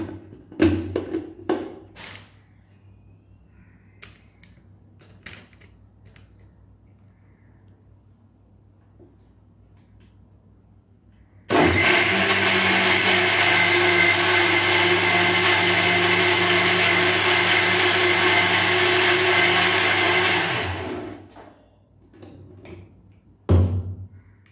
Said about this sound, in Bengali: এবার এটা মিক্সিতে গ্রাইন্ড করে নেব